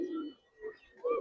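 Pigeons coo in a loft, a few soft, fairly quiet throaty calls with short pauses between them.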